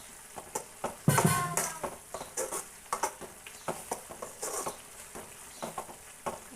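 A dried prawn curry being stirred in a pan, quiet repeated scrapes and soft wet clicks of the spoon in an uneven rhythm, close by, with a brief louder clatter early on.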